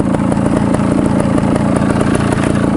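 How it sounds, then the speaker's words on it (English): Motorbike engine running at close range, a loud, steady mid-pitched drone with a rapid pulsing rhythm and no talk over it. "this time I'm going to come in with the engine revving a little bit"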